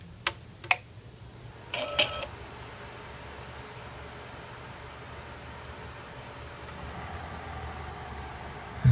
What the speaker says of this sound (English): So let me just go ahead and power on the machine.